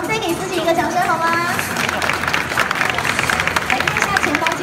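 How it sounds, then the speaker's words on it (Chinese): An audience at a Gunpla Builders World Cup 2015 award ceremony in Taiwan breaks into a burst of clapping right after a host's voice, the applause swelling into a dense, lively patter. "再给自己一个掌声好吗"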